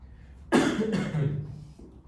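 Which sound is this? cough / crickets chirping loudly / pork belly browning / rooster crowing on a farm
cough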